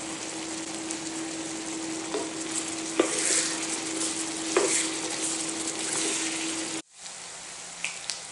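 Onions cooking down in a pan for bacon jam give a steady, close frying sizzle with a few stirring scrapes, then the sound cuts off sharply and a quieter sizzle resumes.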